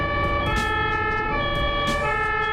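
An ambulance siren wails steadily with stacked tones, loud and close, over the rumble of traffic on a narrow, congested road.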